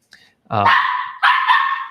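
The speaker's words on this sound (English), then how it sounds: "as Paul calms his cute little dog down" A small dog gives two sharp, close barks in quick succession, loud and alone against a quiet background.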